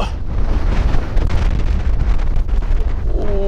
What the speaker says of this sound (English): If you do that face when the wind blows